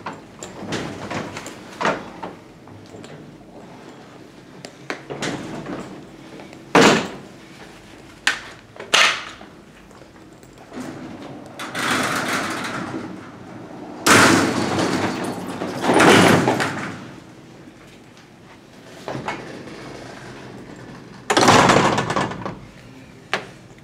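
A Dover hydraulic freight elevator door at a university computer lab is worked open, with repeated heavy metallic bangs, rattles and sliding rumbles at irregular intervals, loud and close.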